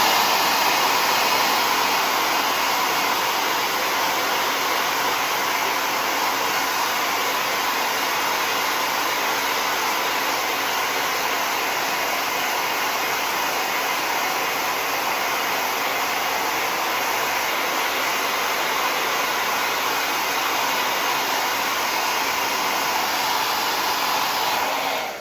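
A hair dryer blows hot air onto wet paint on a small painted picture of a daisy, a loud, unbroken whoosh with a faint high whine that holds steady from start to finish.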